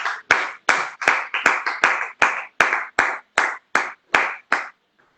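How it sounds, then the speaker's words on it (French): A church congregation clapping in unison during worship, about thirteen sharp, evenly spaced group claps in a steady rhythm that stops abruptly, with no talk over it. "Acclamons encore pour la gloire de Dieu."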